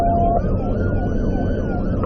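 A wailing police siren rises and falls repeatedly over steady road noise during a highway pursuit, loud and close, with no voices.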